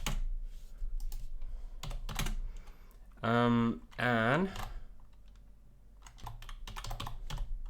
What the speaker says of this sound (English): There is something weird with my keyboard.